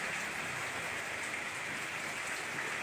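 Rain pours down steadily, a constant broadband hiss of drops striking surfaces, even and unbroken from start to finish with no voices.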